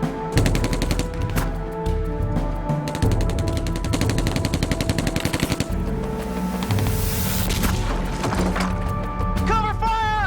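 Covering fire in a WWII battle bursts loud and close, rapid machine-gun rattles and rifle shots in repeated volleys, with shouting voices in between.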